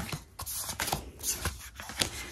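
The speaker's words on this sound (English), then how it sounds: "Just feel like it really shuffles the cards up well." Tarot cards being shuffled by hand, a series of quick papery riffles and flicks, close and fairly quiet, with no voices.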